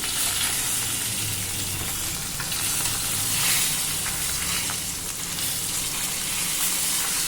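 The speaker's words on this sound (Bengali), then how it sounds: "দেখো এখানে 3টে মাছ ভাজা হচ্ছে" Three fresh fish fry in hot oil in a pan, giving a loud, steady, close sizzle that crackles and hisses without pause.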